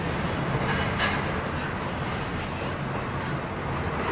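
A train rolls along a railway line near Belen, giving a loud, steady, broadband rumble with rail noise that persists for the whole stretch without a break.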